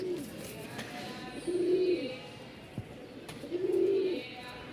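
Black Giribaz pigeons, a pair, give two soft, drawn-out coos close by, each lasting about half a second, over a steady low background hum.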